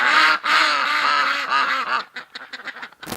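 Ducks quack outdoors on a mild winter day, a dense, loud chorus of overlapping harmonic quacks for about two seconds that then breaks into shorter, scattered calls.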